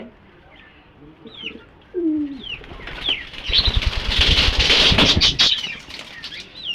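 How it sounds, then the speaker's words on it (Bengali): Pet quails and a pair of tiger chickens in a small backyard bird house during hot weather: sharp chirps and calls over a busy flurry of close wing flapping that swells loud midway and stays lively to the end. "আমাদের এখানে কয়েল পাখিগুলো আছে এখানে আছে আমাদের সেই নতুন মেহমান দুটি টাইগার মুরগি"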